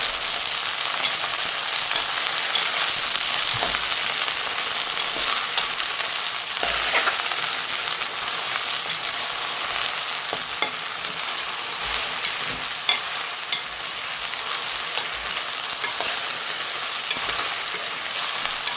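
Chopped okra stirred in a sizzling pan, a continuous frying hiss with occasional scraping and clinking of the spoon against the pan, close and steady with no talk.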